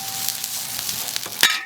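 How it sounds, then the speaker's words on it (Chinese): Chilies hiss and sizzle as they are stir-fried in a hot wok, a steady loud frying crackle with a few scraping stirs near the end. "把这个鱼球辣下锅爆炒。"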